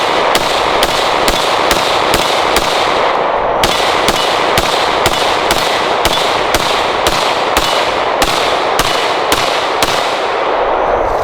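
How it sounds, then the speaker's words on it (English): A Ruger 5.7 pistol fires a long, fast, evenly spaced string of loud, sharp reports, close and ringing, with no talking between shots. "let's go ahead and take a couple shots here with the Ruger."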